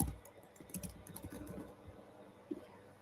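Someone types an email address on a computer keyboard. Rapid, close keystrokes patter in quick bursts, then thin out to a few scattered taps and one final press.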